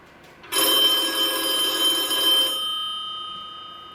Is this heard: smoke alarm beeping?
no